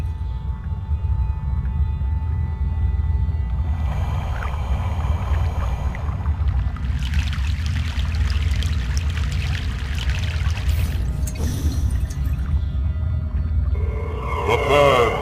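A boat crosses a river in Egypt in the video game Broken Sword: The Sleeping Dragon, producing a constant deep watery drone overlaid with pouring and trickling swells, plus a sharp splash and closing burst of sloshing.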